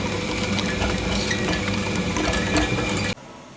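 A wet grinder churns soaked parboiled rice into a smooth batter, giving a steady, loud mechanical whir with a constant hum that runs nearly three seconds before cutting off abruptly.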